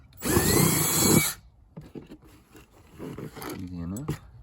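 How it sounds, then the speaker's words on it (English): A power drill boring a starter hole in plastic for an air conditioner build, one loud whirring burst lasting about a second, followed by someone talking close by with light handling noises. "Time to drill a hole, so just drill a hole in there."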